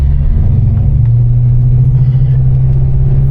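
1973 Chevrolet Caprice with an LS engine idling and blipping the throttle, a deep steady rumble close by with a slight rise in revs, no talk.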